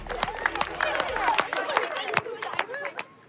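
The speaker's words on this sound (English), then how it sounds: "give yourselves a big round of applause" Schoolchildren clap and cheer for themselves outdoors after hauling a heavy timber frame by rope. Scattered claps mix with excited chatter and shouts, fairly close, before fading out at the end.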